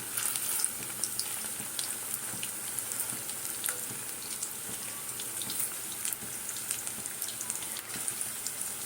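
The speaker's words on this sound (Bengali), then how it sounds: "এগুলো সব ভেজে আমি তুলি একদম ঘিমে আছে" Meatballs fry in ghee with a constant bubbling sizzle, scattered pops and crackles over a dense hiss, close and steady throughout without talk.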